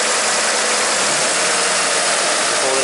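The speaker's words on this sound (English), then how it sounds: "I can rev it right here." An Acura V6 car engine with a suspected misfire runs steadily outdoors, a loud, continuous broadband engine roar with no clear rise or fall in pitch across the short stretch.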